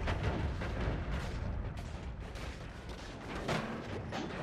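Explosions in the video game Noita, a dense rapid barrage of booms and crackling blasts that overlap continuously at a fairly low level, with no voices.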